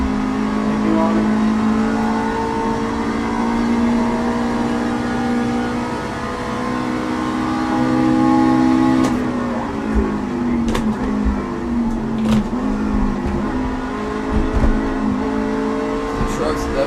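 A racing truck engine in a video game at Watkins Glen drones with a loud, sustained tone, then shifts down and revs through gear changes near the end, with faint talk beneath.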